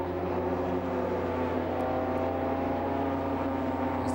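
Production BMW Cup race cars at Lydden Hill circuit, a steady loud engine drone with droning harmonics throughout, no clear pass-by, cars running continuously nearby.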